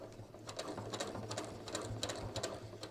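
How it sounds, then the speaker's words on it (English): A sewing machine stitches steadily up the front edge of a ready-to-wear jeans waistband, giving a close, continuous rapid whir with a quick mechanical patter. "I'm just going to pivot and stitch straight up the center front edge"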